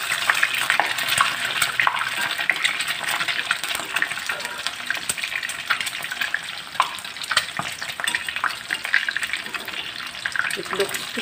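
Egg cooked inside bitter gourd frying in a pan, a steady crackling sizzle with sputtering pops throughout, fairly close, as a voice speaks briefly over it.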